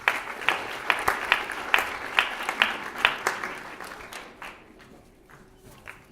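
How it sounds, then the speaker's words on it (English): Applause breaks out at a college honor-society induction ceremony, a modest audience clapping in a rhythmic patter with regular louder claps that gradually thins and fades out. "let's give this group another round of applause"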